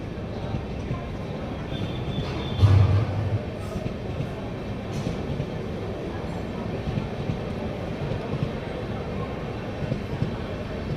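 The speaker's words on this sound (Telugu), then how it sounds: "కామ్గా ట్రైన్ వెళ్ళిపోతుంది." A train rumbles steadily past on the Guntur branch line near Nallapadu, a continuous low rolling drone of wagons at moderate distance with a brief louder thump. Voices murmur faintly in the background.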